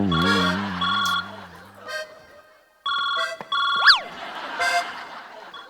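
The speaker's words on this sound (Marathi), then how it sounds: "आता काय रिंग वाजते बाय" A phone ringtone plays on stage during a Marathi comedy sketch: bright electronic melodic tones in several bursts with short gaps, fairly clear, with a voice briefly heard around them.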